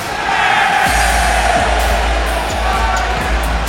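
A wrestling event crowd roars and cheers continuously at high volume for a wrestler's entrance, with steady whooping and bursts of noise filling the space and a few thumps underneath.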